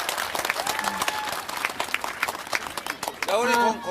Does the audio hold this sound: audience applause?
yes